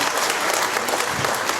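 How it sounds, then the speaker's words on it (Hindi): A seminar crowd at a wellness launch event applauds as a speaker is welcomed to the stage, dense sustained clapping filling the hall evenly throughout. "जोरदार तालियां और म्यूजिक। जोरदार तालियों के बीच।"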